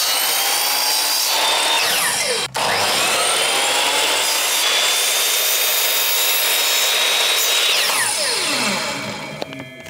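Power saw cutting through pine timber panels for wall panelling, a loud, steady ripping whine with rising and falling pitch sweeps as the blade moves through the wood, running continuously for the full length with no talking.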